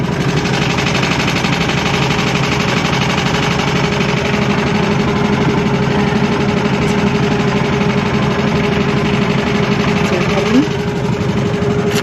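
A sailboat's inboard motor drones steadily and evenly throughout while the boat motor-sails under its mainsail, a constant close mechanical hum with no breaks.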